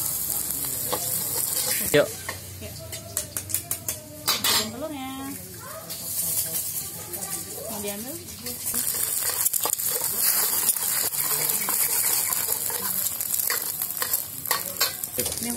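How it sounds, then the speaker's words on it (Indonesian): Shallots and garlic sautéing in a pan as the base for nasi goreng: steady sizzling and frying with repeated utensil scrapes and clinks against the pan, close and fairly loud, with a brief spoken word. "Kita tumis bawang merah dan bawang putih dulu ya, bumbu dasar buat nasi goreng."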